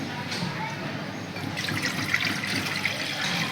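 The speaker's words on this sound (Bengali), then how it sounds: "একটু জল দেব" Water poured into a bowl on a gas stove while cooking a Kerala recipe, a steady close trickling and splashing stream throughout, with faint kitchen background.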